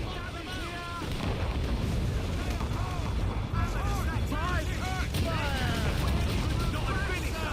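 Ship cannons fire in a naval battle in Assassin's Creed Rogue: a dense, continuous rumble of booming volleys and crashing water, with shouting voices throughout.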